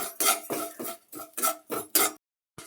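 Urad dal roasting in a little oil in a pan, a spatula scraping and stirring in quick, regular strokes, close and clear, then a short pause before one more stroke.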